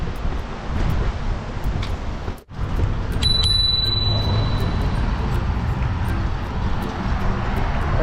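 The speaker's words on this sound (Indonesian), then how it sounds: "anginnya kencang coy" Strong wind roars and buffets the microphone while riding a scooter in Canada, a loud continuous rushing rumble that drops out for a split second midway.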